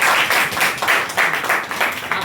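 Classroom students clapping together during a class 11 English poetry lesson, a brief rhythmic burst of applause with uneven pulses, fairly loud and close, with no one speaking over it.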